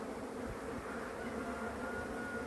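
Honeybees fly around a hive on a January day, a soft continuous buzzing drone from several insects at moderate distance, with no talking.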